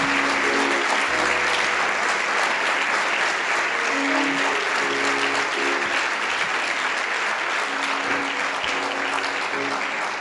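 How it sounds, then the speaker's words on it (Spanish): Sustained applause from a church congregation welcoming guests, a dense, steady clatter of many hands filling the room for the full length, with a faint tonal hum or music underneath. "Vamos a dar un aplauso a nuestros invitados de hoy."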